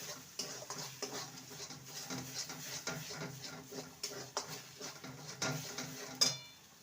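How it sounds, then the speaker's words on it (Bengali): A spiced mixture with green chillies and a little chilli powder, for a pea filling, being stir-fried in a pan. Quiet, rhythmic scraping stirs sound over a soft, continuous sizzle. "এবার এটাকে ভালো করে কষিয়ে নেব"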